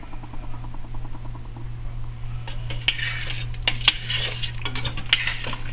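Spoon stirring black-eyed peas with smoked ham hocks in a pot: light metallic scrapes and clinks against the pot wall in the second half, over a steady low hum from a kitchen fan, with no speech.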